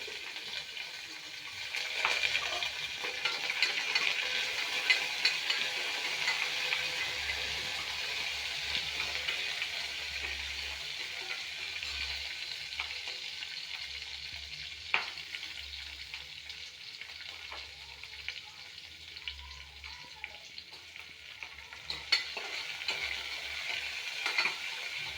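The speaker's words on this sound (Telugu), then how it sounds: "ఆయిల్ వేడెక్కింది, ఆవాలు చిట్లినాయి. ఇంకోండి తెల్లగడ్డ, కరివేపాకు." Mustard seeds, garlic and curry leaves fry in hot oil for okra egg curry, giving a steady close sizzle with occasional sharp pops and crackles throughout, no voices over it.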